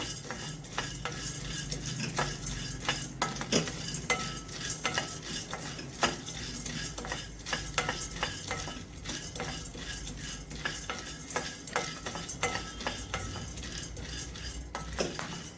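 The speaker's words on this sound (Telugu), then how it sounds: "వీటిని కూడా మీడియం ఫ్లేమ్లో దోరగా వేయించుకోవాలి." Laddu ingredients, including seeds, roast in a pan over a medium flame, with a spoon scraping and clinking against the metal in a quick, steady rhythm under a faint sizzle throughout.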